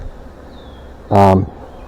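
Honeybees shaken off a hive frame while a new queen is installed give a loud, dense buzzing burst lasting about a third of a second, standing out sharply from a quiet background.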